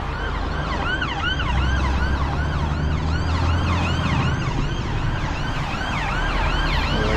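A loud ambulance siren wails continuously with rising and falling sweeps, close by over steady road and engine noise.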